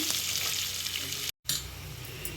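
Onions fry in a pan for chicken biryani, giving a continuous close sizzle and crackle. The sound cuts out briefly partway through, then returns.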